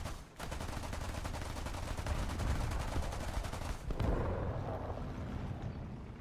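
Rapid sustained 20mm cannon fire in a tank video game, a fast loud stream of shots with a brief break near the start and another just before the end, then echoing booms fading out.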